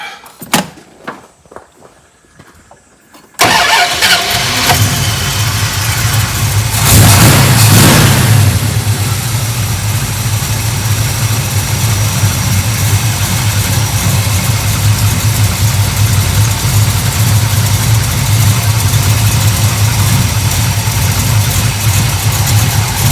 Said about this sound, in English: we're definitely idling too low